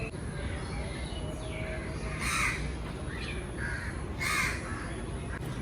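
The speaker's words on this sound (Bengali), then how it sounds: "শুনতে পারতেছ পাখির কিচির মিচির" Crows cawing repeatedly on an early village morning, loud bursts of calls rising over a steady background hiss of other birds, with a voice talking briefly.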